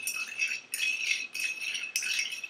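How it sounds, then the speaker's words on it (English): Ice rattling as a cocktail is stirred to chill it, four bursts of bright clinking in a steady rhythm, close and moderately loud, with no talking. "But stir it around, make sure it's nice and cold."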